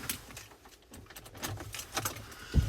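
Keys for a 2017 Ford Ranger 3.2 TDCi Wildtrak automatic, two ignition keys and two canopy keys, jangle close up in a series of light metallic clinks, ending with a dull thump.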